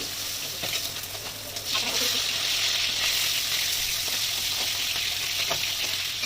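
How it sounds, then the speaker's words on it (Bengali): Fish frying in hot oil in a pan, a dense, steady sizzle with a few brief stirring or turning sounds, fairly close and continuous, no voices. "আর বাদ বাকি যে মাছগুলো রয়েছে এবার আমি ওগুলোকে ভেজে নেব"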